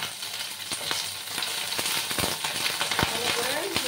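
Curry leaves fry in a hot pan over a medium gas flame, giving a steady close sizzle and crackle, with occasional stirring clinks and a voice speaking over it.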